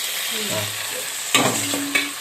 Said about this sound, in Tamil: வெங்காயம் பொன்னிறமாக வணங்கிச்சு இப்போ தக்காளி போட்டுக்கலாம்